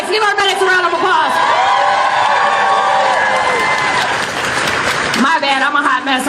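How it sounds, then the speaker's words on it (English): An audience gives a round of applause and cheers for the event's medics. Clapping and crowd noise stay steady throughout, mixed with shouting voices and a loud voice over the top. "Give our medics a round of applause."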